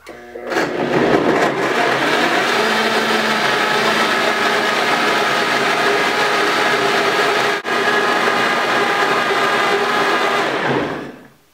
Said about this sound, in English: This is a high-powered blender.